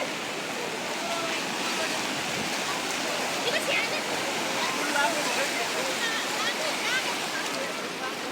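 A swollen river rushing during heavy rain near a bridge in Kathmandu: a loud, steady broadband roar of churning water, close and unbroken throughout.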